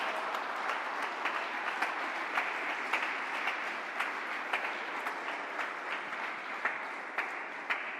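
Congregation at a church service breaking into sustained applause, an even, crowded wash of clapping lasting eight seconds with a few sharper claps standing out, moderately distant.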